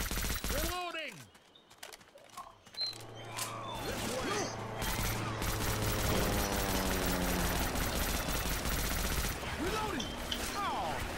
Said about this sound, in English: Can y'all stop shooting